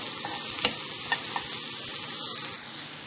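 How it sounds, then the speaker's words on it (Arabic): Onion softening in hot oil in a pan, a steady broadband sizzle with a few sharp spatter pops, the frying quieting slightly near the end. "حطيت الزيت اهو دلوقتي، وهبدأ اخلي البصلة تدبل معايا"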